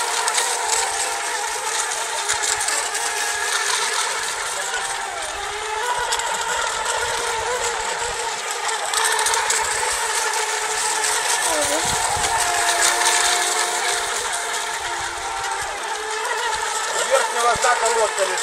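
Racing motorboat engines roar steadily for the whole stretch at a mini-expert class race final in Sevastopol, a high buzzing drone with some rising whine, while a commentator talks over it.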